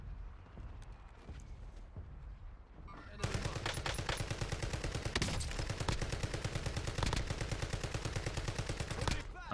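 Rapid automatic SMG fire in the Warzone battle royale game, loud bursts of close shots that start abruptly after a few seconds of low ambient game noise and continue in a dense, rattling rhythm to the end.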